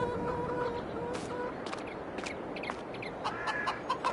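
Hens in Farming Simulator 22 cluck softly and intermittently over a steady ambient hiss, several short clucks scattered through, close but quiet and without speech.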